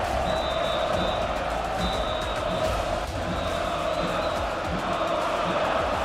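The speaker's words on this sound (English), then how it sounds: "And you hear them cheer for you right now, Supa." A large arena crowd at the LEC esports summer playoffs cheers and roars continuously, a dense, loud wall of voices with a commentator talking over it.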